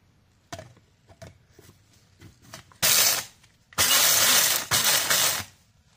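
Oats being ground for oatmeal soap prep in a small grinder, heard as several loud whirring bursts of a few seconds each, separated by quieter clicks and handling noises, with no talking.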